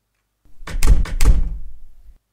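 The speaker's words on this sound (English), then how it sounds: "That is one loud, heavy door" A loud, heavy door in the horror game Trick or Treat slams and thuds twice in close succession, with a booming low impact and a short rumbling tail, alone in otherwise silence.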